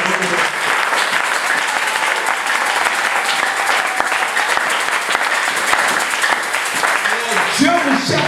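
A church congregation applauds during a sermon, dense sustained clapping from many hands filling the room, loud and close, with a voice speaking over it.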